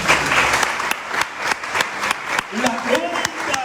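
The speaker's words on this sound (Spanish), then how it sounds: "Y usted le da un aplauso al Señor." A church congregation at a Spanish-language service applauds, a loud sustained crowd clapping with sharp individual claps standing out, and voices calling out over it toward the end.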